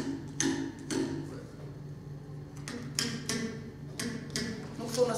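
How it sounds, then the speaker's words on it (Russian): A series of sharp twanging taps, roughly one per second, like a ruler flicked against a table edge, with brief buzzing decays between strikes. "Прижму к столу лучше. Здесь плотнее получается."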